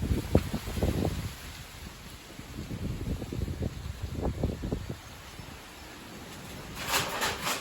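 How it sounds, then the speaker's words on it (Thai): Strong gusting wind blows in irregular low rumbling surges, loud and close, with a brief hiss of rain or rustle near the end and no voices. "ลมแรงมาก"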